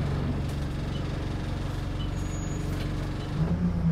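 Hanson's diamond-liveried bus pulling away toward Starbridge, a steady low engine drone and rumble heard from on board, with a brief hiss of air near the end.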